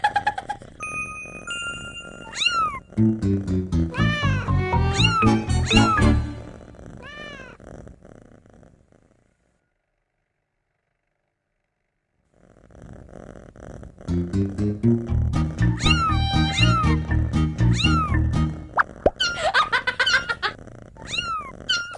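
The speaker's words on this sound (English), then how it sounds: "Carlos has 3 kittens." Kittens give repeated high meows over light music, the cries clustered early and late with a quiet pause of several seconds in between.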